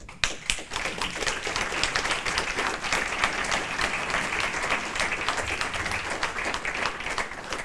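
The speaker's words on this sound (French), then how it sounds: "Et je vous propose de l'applaudir." An assembly audience at a federation general meeting applauds steadily, a dense, sustained wash of many hands clapping in a hall.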